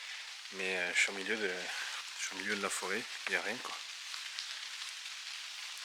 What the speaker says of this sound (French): Là en plus il pleut mais avec les arbres, et je reçois quasiment pas de pluie.